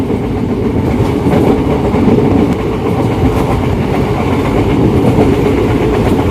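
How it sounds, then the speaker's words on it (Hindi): An Indian Railways passenger special on the Guwahati–New Bongaigaon route runs at close to 100 km/h, giving a loud, steady rumble with continuous wheel clatter throughout and no voices. "ट्रेन क्या स्पीड भाग रही है, मतलब ऑलमोस्ट 100 किलोमीटर्स की स्पीड से तो दौड़ रही है"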